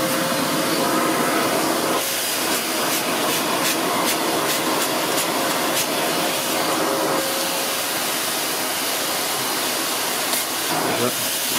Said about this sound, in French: tu démarres ton aspirateur, tu frottes et tu aspires en même temps.